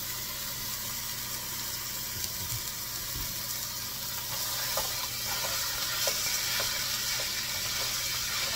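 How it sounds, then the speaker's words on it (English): Ground beef, about 2¼ pounds, browning in a pan with a steady, fairly loud sizzle that runs throughout, broken by faint scraping taps as the meat is broken apart. "take this apart, get it browned up nicely."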